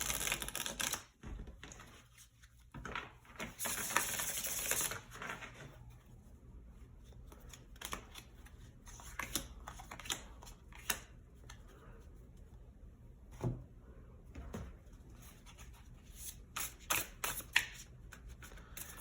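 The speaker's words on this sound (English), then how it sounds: "And shuffle one more time." Tarot cards are shuffled by hand in quick riffling bursts and sharp snaps, close and crisp, with quieter pauses between the rounds.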